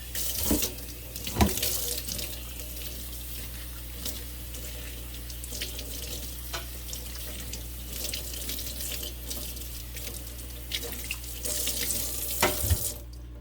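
Tap water runs steadily into a sink, rinsing lather out of a plastic fashion doll's shampooed hair, with a continuous close splashing and occasional louder splatters of water.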